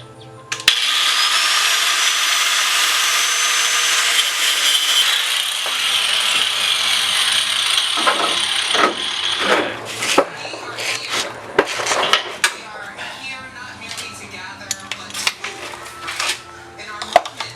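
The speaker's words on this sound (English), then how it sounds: "I'm gonna cut these bolts off from behind" A power tool grinds steadily through rusted bolts on a Jeep CJ7 rocker guard, loud and sustained for about nine seconds, then breaks into short bursts with metallic clanks and rattling between cuts.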